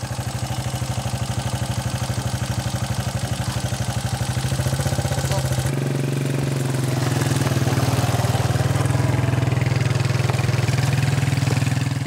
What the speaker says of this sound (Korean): 할아버지의 오토바이를 타는 것도 오랜만이다.